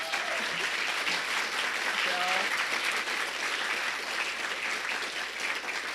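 Steady applause from a conference audience fills the room at the close of a talk on building and optimizing a product value stream, sustained and even throughout without pauses.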